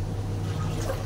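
Running tap water pours steadily into a washing machine tub filled to the top, a continuous close gushing and splashing without talk.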